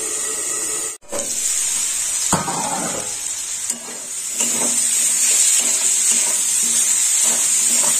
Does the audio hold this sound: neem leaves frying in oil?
yes